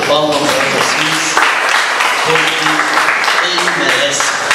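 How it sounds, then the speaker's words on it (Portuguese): Church congregation at a sermon applauding for Jesus, dense clapping throughout under a preacher's voice that keeps talking over it. "dá uma salva de palmas para Jesus"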